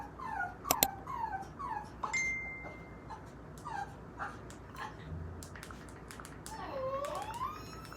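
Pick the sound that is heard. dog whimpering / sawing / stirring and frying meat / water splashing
dog whimpering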